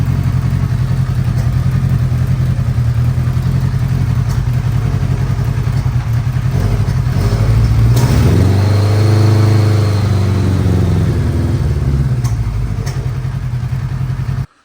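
A Honda Goldwing motorcycle engine runs steadily near the microphone, a continuous low throb with a brief rev swelling around the middle before settling back to a steady idle.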